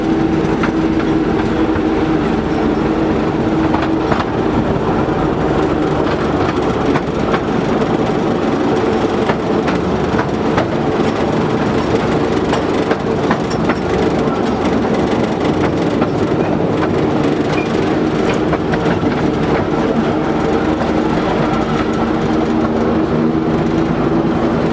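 A narrow-gauge Driving Creek Railway train rolls across a viaduct, making a continuous close rumble and clatter of wheels and cars with a steady engine drone, unbroken for the whole stretch.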